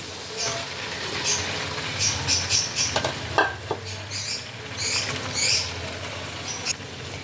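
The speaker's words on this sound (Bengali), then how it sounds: "এই সমস্ত জিনিসকে মশলার সাথে ভালো করে মিশিয়ে নিতে হবে" Fried potatoes, prawns and green jackfruit stirred into spices in a pan, heard as light sizzling under repeated scraping and clinking spoon strokes, close and fairly quiet.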